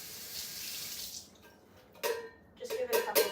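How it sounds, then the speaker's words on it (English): Running tap water rinsing out an emptied can for recycling, a steady hiss that fades, then splashing bursts as water hits the metal can up close. "with this can, we first want to remove the label, then we have to rinse it out"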